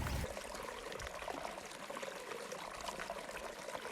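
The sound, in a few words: water flowing in Sullivan's Creek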